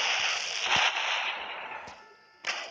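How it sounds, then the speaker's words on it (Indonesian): A burst of explosive noise as a thrown gas canister explodes in Grand Theft Auto, a loud blast fading into crackling debris, followed by a second sharp bang near the end. "ini ada tabung gas dilempar meledak"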